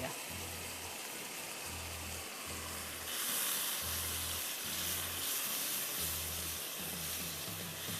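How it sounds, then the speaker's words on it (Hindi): Blended tomatoes, three large ones, and dry spices go into coarse chicken mince frying for qeema with shimla mirch, a continuous hiss and sizzle that swells partway through over a low, pulsing hum. "फिर हम इसमें टमाटर डाल देंगे ब्लेंड किए हुए, और सारा ड्राई मसाला।"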